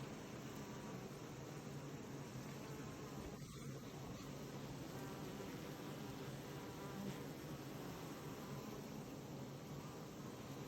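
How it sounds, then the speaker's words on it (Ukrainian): A dense, steady hum of many bees buzzing all at once at an evening apiary during the sunflower flow, faint and continuous with no pauses and no voices. "бджоли гудуть"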